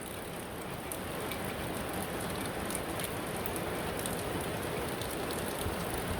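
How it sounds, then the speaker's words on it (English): Steady rain falling in Homosassa during Hurricane Ian, a dense, even hiss of drops on surfaces that holds constant and fairly close, with no voices. "the rain is getting a little firmer."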